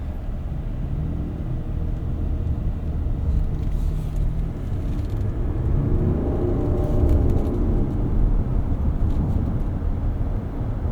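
A 2024 Lexus TX 550h+ plug-in hybrid, Luxury all-wheel drive, moves at low speed, giving a steady, quiet low rumble of road and cabin noise throughout with no talking.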